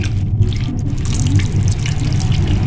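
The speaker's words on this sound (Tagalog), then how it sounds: "ibubuhos na natin yung sauce. Ilalagay lang natin dito sa ibabaw." Sauce is poured over squid adobo in a pan, a close, steady liquid trickle and splash with a low bubbling bed underneath, continuous throughout without speech.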